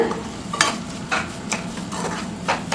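Grated coconut and sugar being stirred in a pan, about five distinct scraping strokes at a steady rhythm over a soft sizzle, close and with no talking.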